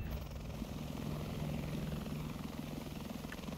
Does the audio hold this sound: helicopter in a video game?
yes